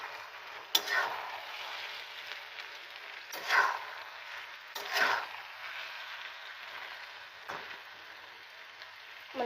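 Boiled Maggi noodles and vegetables sizzle softly in a pan, with a steady faint frying hiss and a few sharp scrapes and clinks of stirring.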